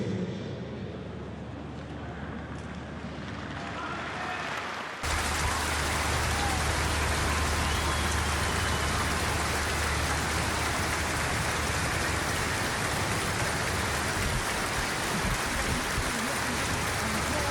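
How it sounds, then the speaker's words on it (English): Applause from the crowd at Croke Park during the U20 All-Ireland football final, Offaly against Roscommon: a dense, hissing wash of clapping that jumps suddenly louder after a few seconds, then holds steady and continuous. "A special round of applause for Conor Connelly and both James McCartan"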